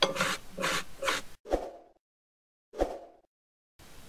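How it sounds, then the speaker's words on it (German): Peeled apples being grated into a bowl for apple bread, a rhythmic rasping of strokes against a grater, first in a quick run of three, then two isolated scrapes separated by silence, close and clear. "Die schäle ich jetzt und reibe sie in eine Schüssel."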